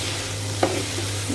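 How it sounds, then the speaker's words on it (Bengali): A bean, potato and carrot bhaji cooking in a pan, with a soft steady sizzle and one brief stirring scrape near the middle, heard close and quiet with no talking. "এখানে যে ভাজিটা হচ্ছে, ভালো করে নেড়ে চেড়ে"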